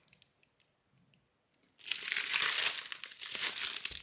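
Plastic packaging around a cross-stitch project bag crinkles during an unboxing. After a few faint ticks and rustles, a loud, continuous crinkling and crackling starts, close to the microphone.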